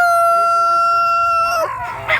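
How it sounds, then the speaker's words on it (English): A rooster crows loudly and close by at a farm with many chickens and roosters, a long sustained harmonic call lasting over a second, followed by brief clucking and a voice. "Look at all them chickens."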